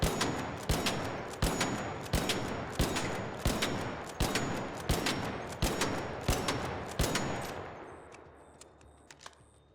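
Renegade rifle fitted with a muzzle brake in the ARC Raiders video game fires about a dozen loud, evenly spaced shots in a steady semi-automatic rhythm, then falls quiet with faint game ambience.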